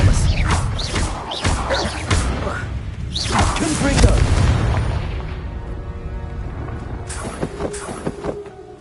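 Blasts from the Confringo spell in Hogwarts Legacy, a series of heavy, booming explosions in quick succession, with a voice speaking among them and a final burst near the end.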